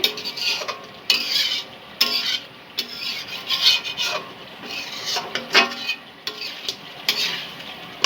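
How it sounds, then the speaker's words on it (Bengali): Chicken kasha stir-fried in a pan, with a utensil scraping and rasping across the pan in repeated strokes, close and fairly loud and steady in rhythm, with no talking. "এই যে চিকেন কষা চলছে।"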